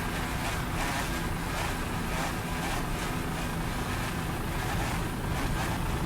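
Superstock racing powerboat at the 2002 Miami Grand Prix, a loud continuous roar of engine and spray mixed with heavy wind buffeting on the microphone, filling the whole stretch without a break.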